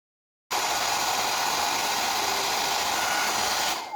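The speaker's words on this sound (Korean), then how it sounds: "드라이기로 이제 은점토를 건조를 하실 때" A hair dryer switches on abruptly and blows with a steady, loud broadband rush for several seconds, drying silver clay paste, cutting off near the end.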